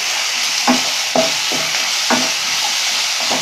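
Capsicum and half-softened onions sauté in a pan with a steady, close sizzle, broken by a few scraping stirs spaced about a second apart.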